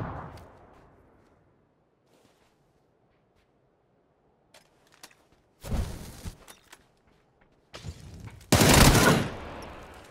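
Gunfire in a shooter video game. After near silence, a few faint isolated shots lead into two loud, sharp bursts of rapid fire. No voice is heard.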